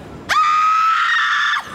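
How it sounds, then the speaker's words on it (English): A person lets out one loud, sustained scream lasting just over a second, close and alone. "So just scream."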